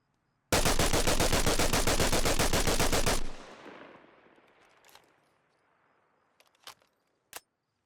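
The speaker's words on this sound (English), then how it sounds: "And so now let's do a full auto." FN SCAR-H rifle fired full-auto in the Arma Reforger video game: a loud, fast, unbroken burst of about three seconds, then a fading echo tail and a few faint clicks, no talk.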